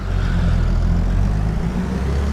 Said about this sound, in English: See how well this tractor pulls the beller.